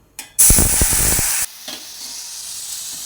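A sudden loud sizzle and hiss erupts as hot water hits roasted semolina in a hot pan, with steam bubbling and stirring scrapes, then cuts off into quiet crackling.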